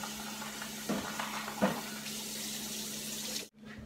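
Tap water runs steadily into a bowl of ramen, a close, even hiss with a couple of faint knocks, before cutting off abruptly near the end.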